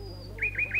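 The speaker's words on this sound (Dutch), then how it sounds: "Een nachtegaal. Daar, in de boom." A nightingale sound effect from a 1968 Dutch radio play: a thin high whistle followed by three quick rising chirps, clear and close over a low steady hum.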